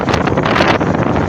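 Strong wind in Alexandria buffeting the microphone, a loud continuous rumbling roar with gusty surges across the whole short moment, no other sounds standing out.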